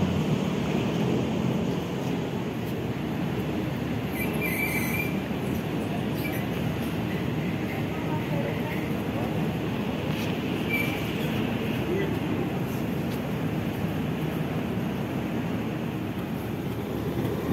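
Inside an economy coach of a Jakarta–Semarang direct train hauled by a CC 203 locomotive at 120 km/h, a loud, unbroken broadband roar and rumble fills the whole stretch.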